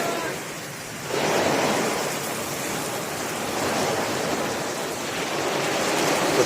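Heavy rain pours down on a car driving through Germany during a thunderstorm, a dense steady roar of water on the body that swells after the first second and stays loud throughout.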